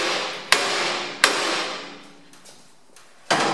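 A hammer strikes to loosen a tie rod end on a John Deere 2030 tractor, with a crowbar adding weight. Four sharp, close metallic hits come at irregular intervals, each ringing briefly.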